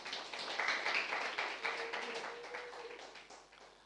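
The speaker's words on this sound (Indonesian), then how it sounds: "Tepuk tangan buat Tuhan." A church congregation claps together in a faint, rapid patter of applause that swells and then gradually fades over a few seconds.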